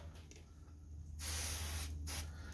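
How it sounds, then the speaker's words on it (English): Two quick hissing bursts of a spray bottle misting plant leaves, close by, over a low background hum. "give them a quick mist like that"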